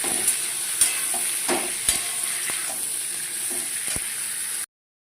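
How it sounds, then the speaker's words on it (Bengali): Pointed gourd (potol) fries in a pan with a loud, steady sizzle and sharp stirring knocks scattered throughout, then stops abruptly near the end. "পটলটা দিয়ে দিয়েছি, পটলটাকে এবার ভালো করে ভাজবো।"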